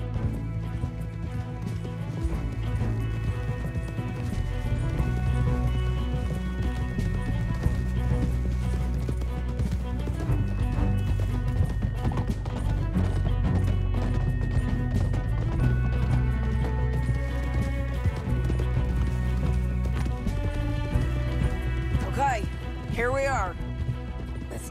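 Horses galloping in the video game Red Dead Redemption 2, a steady clattering of hooves under continuous music and game sounds, with a whinny near the end.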